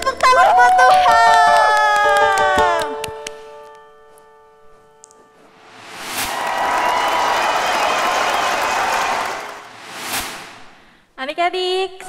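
Children at a Sunday-school church service clap for God after a worship song, a broad burst of applause and cheering lasting several seconds between stretches of singing and an adult voice.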